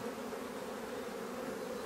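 Honeybees buzzing at an open hive during a spring inspection, making a dense, continuous hum of many insects at close range, steady and fairly soft throughout the short moment.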